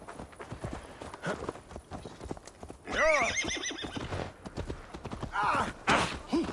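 Horse in Assassin's Creed Valhalla galloping with rapid hoof beats, then giving a loud, close neigh midway and another whinny near the end, with no talking over it.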